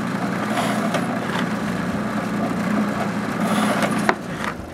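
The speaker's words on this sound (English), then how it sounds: "The first thing I do is to drill holes inside the letters of the logo." Drill boring holes through a wooden logo stencil for a Coca-Cola bottle tray, a steady, close grinding whir in the wood with a brief sharp knock near the end.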